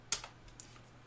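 A short burst of computer keyboard typing, a few quick keystrokes close by and fairly quiet, then a faint tap, with no talking.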